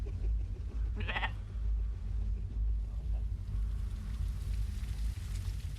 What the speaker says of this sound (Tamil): ஆடு சத்தம் வந்துட்டு இருக்கு.